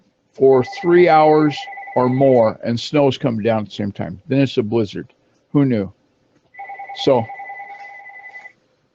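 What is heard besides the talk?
telephone ringing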